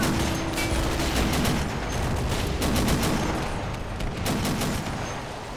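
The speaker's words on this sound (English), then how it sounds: "Alright, let's start firing again." Sustained WWII video game battle gunfire, a dense continuous barrage of shots and distant booms with no clear gaps, steady and fairly loud throughout.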